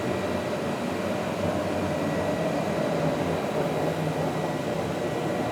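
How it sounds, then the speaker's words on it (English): A large single-head grinder works across a concrete floor, evening out a high spot before tiling or sealing, giving a loud, steady, dense roar that holds without a break and has no voices over it. "We're actually switching it up to the bigger single head grinder"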